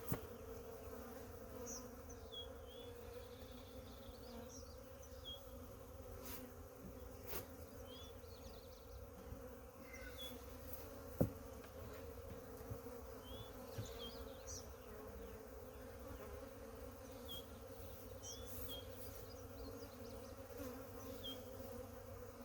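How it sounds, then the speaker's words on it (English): Carniolan honey bees buzz around an open hive outdoors, a steady dense drone of many wings with individual bees passing close now and then, continuous and without talk. "there's a lot of bees buzzing around"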